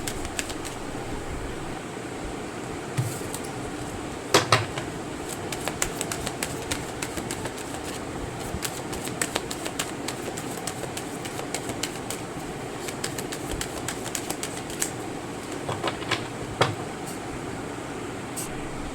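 Tarot cards being shuffled make a steady, soft papery riffle with scattered small clicks and flutters, running continuously for about nineteen seconds with no talking.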